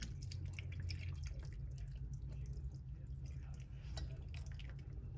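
Beef broth is poured into a measuring cup, a steady close liquid trickle and splash running through the whole clip at low volume.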